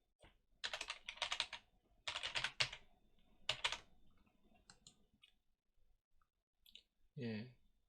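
Quick bursts of computer keyboard typing while an email address is entered, clustered clicks in short runs separated by pauses, close and fairly quiet, with a brief voice near the end.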